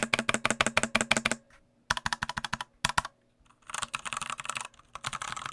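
Typing on a Royal Kludge RK87, a budget tenkeyless hot-swap keyboard fitted with RK Brown switches, comes in three quick close bursts of clacking keystrokes separated by short pauses.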